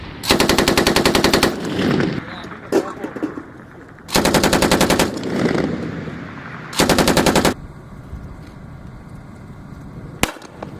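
Heavy weapons fire at a military security forces training range in Arizona heat: three long, loud bursts of rapid automatic gunfire with echoing pauses between, then a single sharp shot near the end, no talking.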